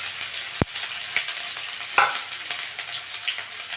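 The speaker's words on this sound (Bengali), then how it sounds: "পেঁয়াজটা একটু ভাজা ভাজা হয়ে গেছে" Chopped onion fries in hot oil with whole cumin, a continuous close sizzle broken by a few sharp clicks and spatula taps against the pan, no talking.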